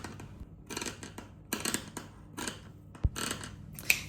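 Scissors snip through fabric pieces for no-sew Christmas bunting, a run of close, quiet crisp cuts in short irregular bursts with a couple of sharp clicks.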